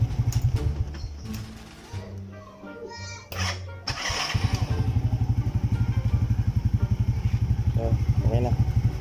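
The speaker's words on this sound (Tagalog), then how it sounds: "So tingnan natin kung gagana ng starter." A motorcycle fitted with a new Kage battery cranks on its electric starter, then the engine catches at about four seconds and settles into a loud, steady idle, with a person speaking briefly over the cranking.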